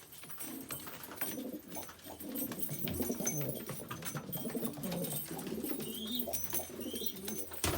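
Pigeons or doves in a backyard coop at midnight give repeated soft, throaty coos, fairly close and steady over a low background, with one large bird among them.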